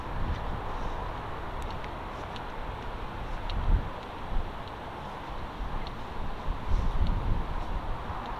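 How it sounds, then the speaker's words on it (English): Strong wind roars steadily through a Liverpool graveyard at night, a dense continuous rush with gusts swelling and easing, no voices present. "It is an extremely windy night tonight"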